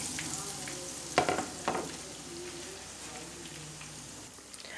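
Sandwiches fry in a little oil in a pan, a steady soft sizzle running throughout with a couple of brief sharper crackles and scrapes near the start.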